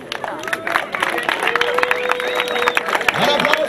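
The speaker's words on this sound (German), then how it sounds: "Ein Applaus für das Team HSV!" Crowd at a polo match clapping and cheering for the team, a dense burst of applause and voices under an announcer's amplified talk.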